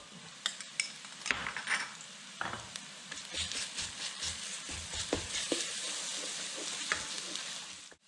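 Garlic hits a pan with smoked sausage and sizzles, a quiet, steady frying hiss punctuated by a few clinks and scrapes of a utensil, with no talking.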